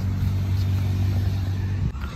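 Motorcycle engine near a cactus garden in Panchkula, a steady low rumble that holds close and even for about two seconds, then dips briefly near the end.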